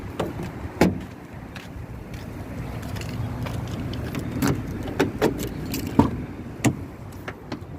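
Car keys jangle and a parked car is locked, with several sharp clicks and clunks of the locks and door amid light rustling, close by and without talking.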